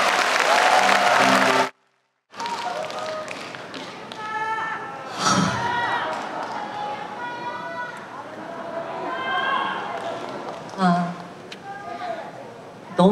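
A concert crowd at an outdoor charity show in Ulsan applauds as a singer is welcomed, a loud burst of clapping that cuts off sharply, followed by someone talking with occasional thumps.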